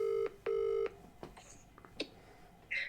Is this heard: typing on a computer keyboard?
no